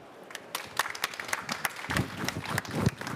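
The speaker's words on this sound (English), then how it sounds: "let me join you in applauding our wonderful panel." An audience at a COP26 panel session in Glasgow gives a brief round of scattered, moderately faint applause, with irregular claps spread across a few seconds.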